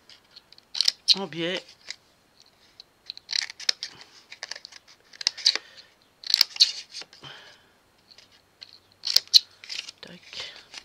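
Scissors snip paper for a handmade magic box: short, crisp cuts come in several separate bursts of clustered snips, with brief speech between them.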